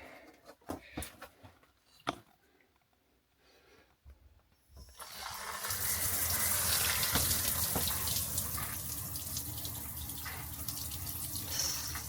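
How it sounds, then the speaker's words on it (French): Water gushes from a thermostatic mixer tap in a converted bus, a strong steady stream that starts abruptly partway through after a few quiet knocks and handling sounds, then runs loud and continuous to the end. "on va regarder si ce mitigeur thermostatique fonctionne bien"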